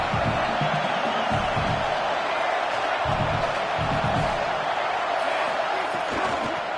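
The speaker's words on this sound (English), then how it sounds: "This crowd rising up, sensing that his defense needs some help." A football stadium crowd roars steadily throughout, a dense continuous wash of cheering with swelling bursts, heard alone without clear speech on top.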